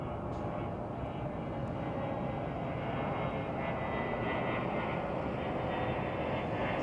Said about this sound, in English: we're going to go ahead and take this Air Wisconsin flight off to Appleton